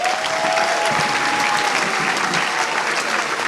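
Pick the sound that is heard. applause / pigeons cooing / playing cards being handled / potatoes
applause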